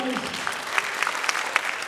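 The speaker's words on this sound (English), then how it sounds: "Give her a big round of applause." Scattered crowd applause follows a volunteer at a comedy hypnosis show, moderately loud with sharp individual claps standing out, a voice briefly heard at the start.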